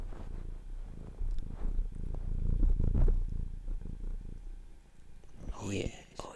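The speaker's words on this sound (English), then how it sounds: "There's some good purrs." Bubba the cat purrs in a steady low rumble close to the mic, with soft human whispering mixed in and a brief rustle near the end.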